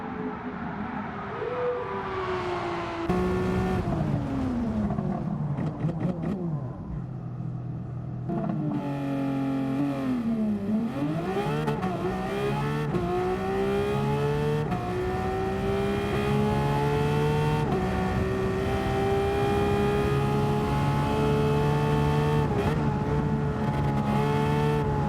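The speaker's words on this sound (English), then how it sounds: "you just saw another example of my atrocious driving, but I will say the 911 GT3 RS, truly a track car" A Porsche 911 GT3 RS driving hard on a track, its loud high-revving engine climbing through the gears with sharp upshifts, a dip in revs into a corner, then sustained screaming acceleration, close and continuous with no talking.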